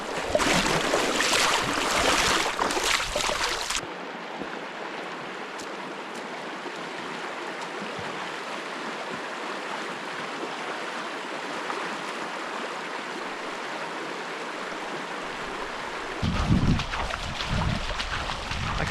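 Cold stream water rushes and splashes around legs as someone wades through it in the New Zealand wilderness, a broad steady wash with louder bursts of splashing at the start and near the end, close to the microphone.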